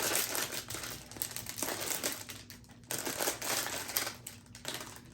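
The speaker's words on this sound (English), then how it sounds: "Pretty much have to rip the box open." Cardboard blind box being ripped open: close, loud crinkling and tearing noises in irregular bursts, with a brief pause near the middle.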